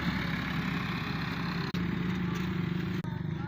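A tractor pulling a trolley rumbles past on a road through woodland, its engine a steady, loud drone with rattling, while someone talks over it.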